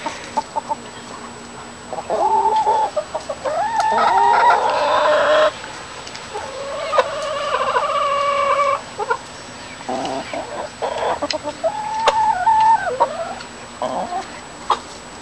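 Hens clucking in a backyard garden flock, a series of short bursts with pauses between, fairly close and clear, with one bird's call carrying above the others.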